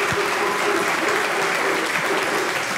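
A church audience at a Sunday service applauds warmly, loud continuous clapping filling the room throughout, with some voices mixed in.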